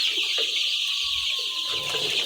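Broiler chicks around five to ten weeks old active in a pen, a dense continuous chorus of high peeping and chirping close by, with a few soft lower clucks underneath and no talking.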